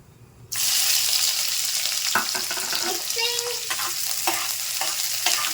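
Long-cut onions tipped into hot oil in a pan burst into a loud, steady sizzle, with scattered stirring knocks over the frying noise.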